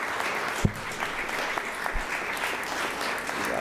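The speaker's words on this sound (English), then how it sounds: "let's give him another round of applause" An audience at a Black American Heritage flag raising ceremony in Springfield applauds with steady, dense clapping that holds throughout, close and moderately loud.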